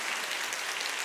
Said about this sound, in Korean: 우리 하나님께 영광의 박수를 올리고 시작하겠습니다